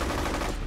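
Steady, continuous gunfire from the first-person shooter F.E.A.R., a dense rattling burst running the whole short moment at moderate loudness with no voice over it.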